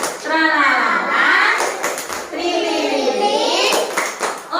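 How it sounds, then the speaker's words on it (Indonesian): Children in a classroom chant the rhythmic 'tepuk gembira' cheer together, their singing voices loud and close with handclaps woven between the phrases. "Coba tepuk gembira."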